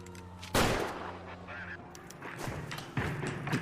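A shooter opens fire in the video game LA Noire: one sharp, loud shot bursts out, then sustained noisy rumble, and a second report lands near the end over a steady low game hum.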